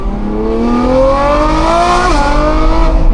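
Lamborghini Revuelto fitted with a Gintani exhaust revving hard, a loud rising engine howl that climbs steadily, dips briefly at a shift, then keeps roaring close by with no talking.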